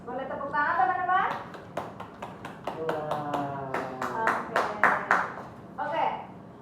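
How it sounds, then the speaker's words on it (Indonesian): Classmates applaud the best group during a micro-teaching classroom lesson, a scattered run of sharp claps and taps over a few seconds, mixed with children's voices and speech. "Boleh tepuk tangan teman-teman?"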